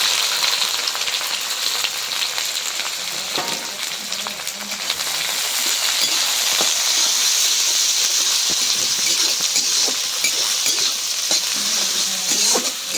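Mustard greens fry with chopped garlic, onion and green chili while being stirred, giving a steady loud sizzle with intermittent scraping stirs throughout, no talking.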